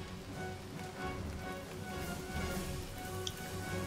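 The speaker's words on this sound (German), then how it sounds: "Und es regnet immer noch." Steady rain patters across surfaces in the Rettungshubschrauber Simulator rescue helicopter game, a dense, even hiss with faint ticks and a low engine-like drone underneath, continuous and without speech.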